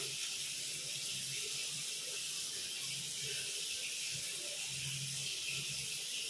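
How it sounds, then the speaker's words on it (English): Tap water runs steadily in a washroom while feet are being washed, a soft continuous hiss and splash with faint low gurgles, even and fairly quiet throughout, no talking. "we will wash only feet and brush our teeth."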